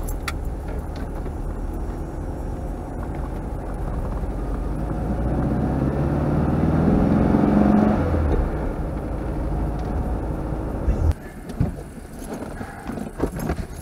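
A 1964 VW Beetle drives along, its air-cooled engine a steady low rumble that swells slightly midway, then gives way to a rougher, bumpier patch near the end, with no talk over it.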